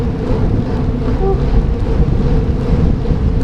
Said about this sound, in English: Windy day, lots of wind.